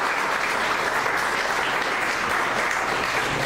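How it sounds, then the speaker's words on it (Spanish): A church congregation claps in dense, steady applause that holds at full strength throughout, loud and close with no pauses. "Denle una ofrenda de palmas al Señor."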